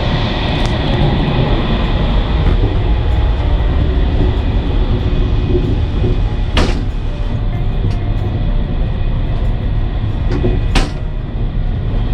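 Loud, continuous low rumble inside a moving train in Italy, with a couple of sharp metallic clunks and rattles breaking through.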